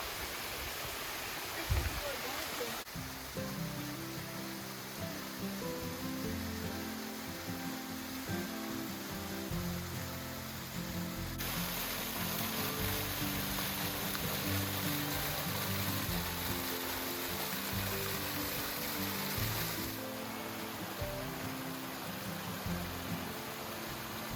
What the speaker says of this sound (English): This is a really, really pretty hike all along this cascading waterfalls.